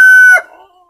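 A single short, loud call from a domestic chicken, a sharp, clear note that cuts off abruptly and fades within a second.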